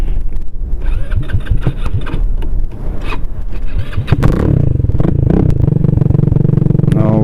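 A GY6 scooter engine cranks with a rapid clattering starter, catches with a loud roar, then settles into a steady, close, buzzing idle.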